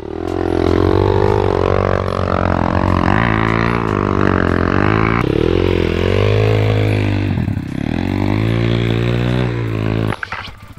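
A vehicle engine roars at full throttle in second gear while climbing through a quarry, loud and sustained with rising and falling revs and strong harmonic whine for about ten seconds, cutting off near the end.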